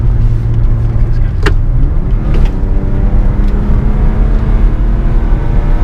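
A BMW E36 325 with a swapped-in M50 straight-six pulls hard on a test drive, its engine note rising steadily through the gears, loud and close from inside the cabin, with a brief shift dip.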